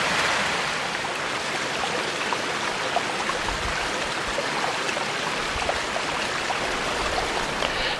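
Creek water flows steadily nearby outdoors in the field, a continuous broadband rush with no speech and no break across the whole stretch.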